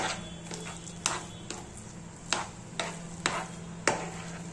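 Rava modak dough with ghee is stirred in a pan, giving faint scraping strokes at a slow, regular pace over a low steady hum, close but quiet.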